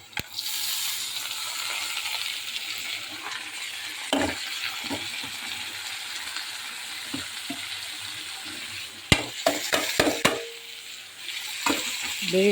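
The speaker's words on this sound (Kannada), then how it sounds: "ಬೇಯಿಸಿದಂಥ ಬೀಟ್ರೂಟು ಕ್ಯಾರೆಟು ಹಾಕಿದ್ದೀನಿ" Boiled beetroot and carrot going into a hot pan for a simple beetroot palya, with a steady close sizzle and several sharp scraping clinks of a spoon stirring toward the end.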